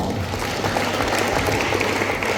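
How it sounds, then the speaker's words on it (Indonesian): Audience applause breaks out during an Indonesian insurance seminar, a steady dense patter of clapping that stays even and fills the whole short stretch. "Tepuk tangan dong."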